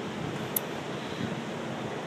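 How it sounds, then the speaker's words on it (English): Ocean surf rolls in at Waikiki under a steady wash of wind noise, a continuous soft roar with no distinct breaks and a single brief click partway through. "The waves are rolling a little bit more today than they did yesterday because the wind is coming in off the sea."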